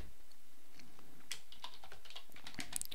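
Rapid close keystrokes on a computer keyboard as code for a PIC18F4550 microcontroller board is typed, a quick irregular patter of clicks over faint room noise.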